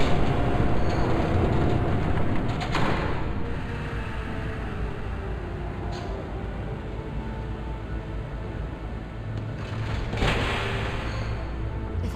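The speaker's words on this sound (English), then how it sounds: "There's a train coming." An approaching train in Batman: The Telltale Series, a loud, steady rail rumble with clattering wheels and metallic screeching, building and holding across the whole stretch with no voices.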